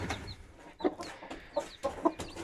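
Hens clucking in short, separate bursts close by, with thin chick peeps in between, at a fairly quiet level with pauses.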